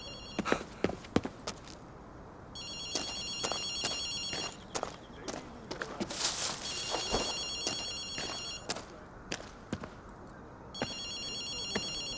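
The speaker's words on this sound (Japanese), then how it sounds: "あの電話が鳴っているみたいだ" An in-game telephone in Ghostwire Tokyo rings in repeated electronic bursts, separated by short gaps, while footsteps click and thud in the foreground.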